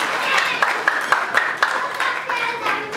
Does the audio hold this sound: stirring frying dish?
no